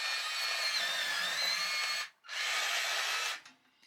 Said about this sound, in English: hang on, let me just sharpen this.